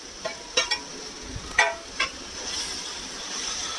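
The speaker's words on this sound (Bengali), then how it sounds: "ক্যাপসিকাম দিয়েও আবার কিছুক্ষণ নাড়াচাড়া করব" Capsicum stirred in a frying pan for brinjal bharta, with a handful of quick, crisp scraping clicks from the utensil over a soft steady sizzle that lingers as the stirring stops.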